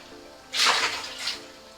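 Water pours from a cup measure into a cooking pot holding lamb vindaloo ingredients, a short splashing gush rising suddenly, then a second smaller pour, close and clear with no talk.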